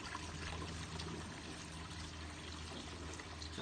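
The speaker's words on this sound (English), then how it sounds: "Righto, pump running, water flowing." A garden pond pump runs steadily, sending a continuous stream of water pouring and trickling close by with no pause, alone and without any talking over it.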